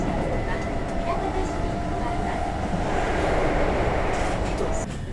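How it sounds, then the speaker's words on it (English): A local commuter train running between Osaka and Kyoto in Japan, heard from inside the carriage as a steady, loud rumble and rattle of wheels on track, continuous throughout. "So this is a nice train"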